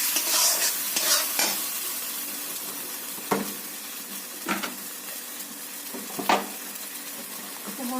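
Fried ivy gourd sizzles steadily in a pan while a spatula stirs it, adding several sharp scrapes and knocks against the metal at irregular intervals over the constant close frying hiss.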